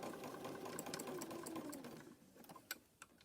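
A sewing machine back-stitches fabric around a rope coaster, producing a faint, rapid mechanical whir that slows into a few separate clicks and taps.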